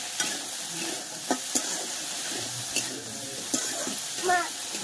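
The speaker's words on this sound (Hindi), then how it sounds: "अब इसको अच्छा से भून देते हैं पहले" Potatoes and tomatoes fry in a pan for a besan vegetable dish, a steady sizzle broken by scraping stirs and light clinks of the spatula, close up with no talk.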